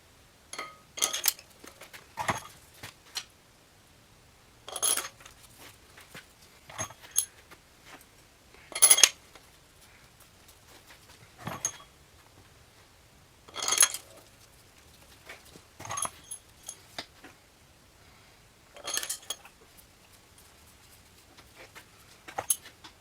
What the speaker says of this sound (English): now I'm going to go ahead and put in all the bolts, making sure to dip them in oil